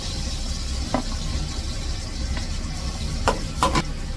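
Onion sautés in a pan for a beef stew, a moderate, even sizzle broken by a few sharp spatula scrapes and clicks, with no talking.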